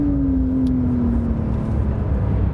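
Porsche 911 Carrera S (992) engine with an 8-speed PDK in Sport Plus, a steady loud engine drone with a tone that slides slowly down while driving, heard from inside the car.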